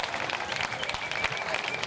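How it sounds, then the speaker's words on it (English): A crowd at a Fourth of July parade stands and applauds, steady dense clapping throughout at moderate distance with a few voices underneath. "the crowd is standing and applauding"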